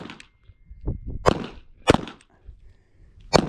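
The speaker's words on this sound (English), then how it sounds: "We'll put the mag back in" Magazine and handling sounds on a Taurus TX22 pistol, a series of sharp metallic clicks and clacks, several distinct close knocks spaced out over a few seconds with quiet gaps between.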